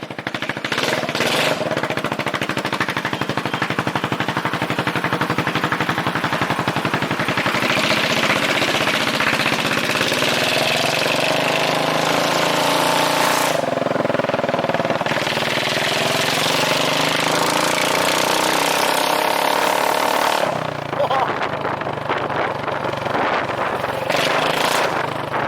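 Straight-piped 2009 Yamaha Majesty 400cc scooter engine runs continuously with a loud, raw, rattly exhaust roar, rising and falling slightly with throttle throughout, close up and without talk.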